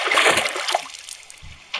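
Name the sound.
water splash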